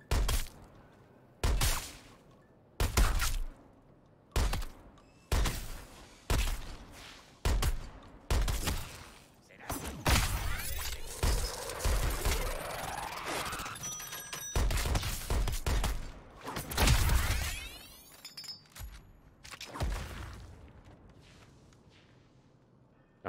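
Gunfire at a shooting gallery in the Suicide Squad: Kill the Justice League video game: a series of separate heavy shots at a steady beat, then a dense stretch of rapid automatic fire with debris and impacts, ending in scattered single shots.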